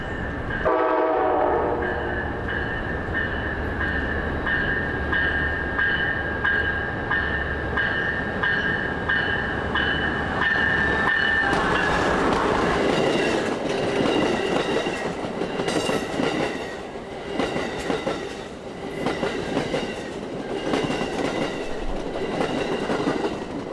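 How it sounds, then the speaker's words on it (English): An Amtrak Palmetto passenger train with a new locomotive roars past in Ashland, Virginia, with a sustained horn blast at first, followed by the rumble and rhythmic clatter of cars rolling by close up. "This is the Palmetto, with one of Amtrak's new locomotives."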